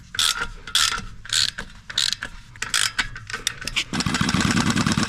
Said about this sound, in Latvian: Sākumā atvelkam ar roku, tad varam turpināt ar pistoli.